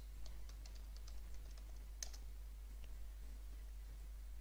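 A computer keyboard is typed on to enter a command, giving a quick, light run of soft clicking keystrokes over a steady low electrical hum.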